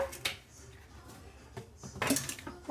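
A metal cooking pot is set down and handled in a home kitchen while preparing rajma tomato curry, giving a few faint, scattered clanks and scrapes, with a sharper cluster of knocks near the end.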